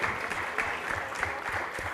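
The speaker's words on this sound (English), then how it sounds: "Round of applause." Audience applause fills a hall after a rock band's set at a substance misuse awareness event, a steady wash of clapping from many hands at moderate distance with no break.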